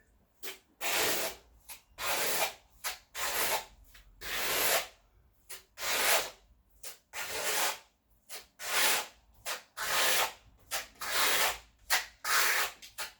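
A trowel applies a microcement colour coat, rhythmic scraping strokes about once a second, each a rough swish with brief pauses between, close and clear with no talking.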